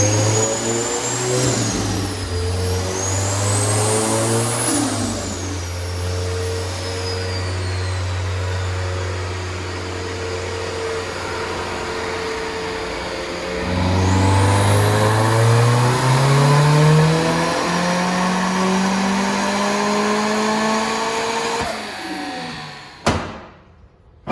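A turbocharged Mazda Miata with a short intake and heat shield revs up and settles repeatedly, a loud, close engine note with rising whines and turbo hiss over about twenty seconds before cutting off.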